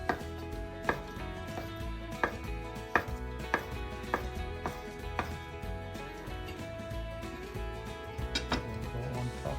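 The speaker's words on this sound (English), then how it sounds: "Now it's time to garnish this beautiful dish with some fresh parsley. Just roughly chop" Fresh parsley and preserved lemon roughly chopped with a knife on a board, a series of distinct close thuds at an uneven rhythm over soft background music.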